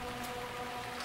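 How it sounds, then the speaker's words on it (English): Rain falling steadily in the video game Deadly Premonition, a dense even hiss with a low tonal hum underneath, brief and unbroken. "Still raining."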